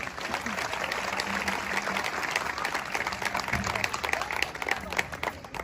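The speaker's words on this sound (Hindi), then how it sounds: "एक बार जोरदार तालियां आप अपने लिए लगाएं।" A crowd at a kavi sammelan poetry gathering in India claps loudly, a dense steady wash of many hands that holds for several seconds, with faint talk or murmur now and then beneath it.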